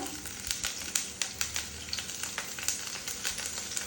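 Byadgi chillies and curry leaves fry in hot oil with a steady crackling sizzle and sharp, repeated pops spread evenly through the sound, heard up close at low volume with no voices.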